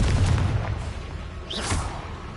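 A Confringo fire spell bursts in the Hogwarts Legacy video game, a low booming blast with a dull rumble that fades. A brief brighter crackle follows midway.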